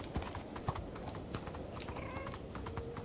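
Horse hooves clip-clop steadily in the Minecraft video game, a busy run of close, crisp hoof knocks over continuous game background noise.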